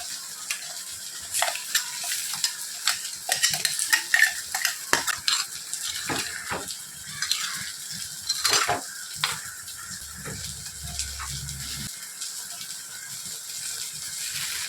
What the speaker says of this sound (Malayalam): ഇനി അവിയലിൻ്റെ അരപ്പ് ചേർത്ത് കൊടുക്കുവാണേ. ഞാൻ ഇളക്കി എടുത്തിട്ടുണ്ട്.